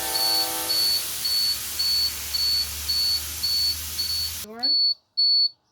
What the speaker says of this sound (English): My low air warning light and buzzer came on at 70.